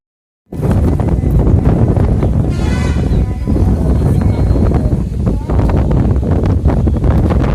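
Sea wind blowing steadily beside Manapad church on the coast, a loud, continuous roar buffeting the microphone with rustling gusts throughout and no speech.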